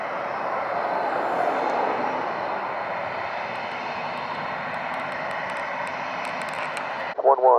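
A Southwest airliner on final for runway 25 at Montego Bay, Jamaica, produces a loud, steady broadband jet roar for about seven seconds before it cuts off abruptly, leaving brief chirping sounds at the end.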